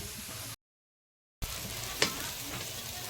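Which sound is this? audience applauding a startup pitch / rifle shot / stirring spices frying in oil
stirring spices frying in oil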